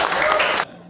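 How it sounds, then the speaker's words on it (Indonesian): Students clapping together in a classroom during an Islamic history lesson on the Wali Songo, a brief dense burst of applause that stops abruptly, leaving quiet room tone. "tepuk tangan sekali lagi"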